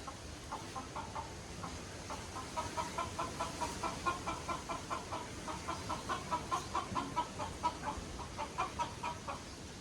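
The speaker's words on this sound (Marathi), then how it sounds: "कोंबडा ओरडतोय." A rooster calls from a distance in a long run of quick, evenly spaced clucking bursts, faint against a quiet background.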